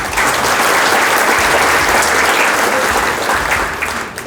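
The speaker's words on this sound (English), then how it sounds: "Give yourselves a round of applause." An audience at an energy academy evening event claps in a loud, dense round of applause that holds steady and then tapers off near the end.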